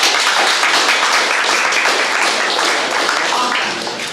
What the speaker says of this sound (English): Let's have a round of applause for our builders.